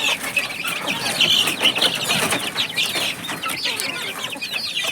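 Five two-month-old native chicks, one a young rooster and the rest hens, cluck and cheep close by in an overlapping, uneven chatter with a brief flutter of wings.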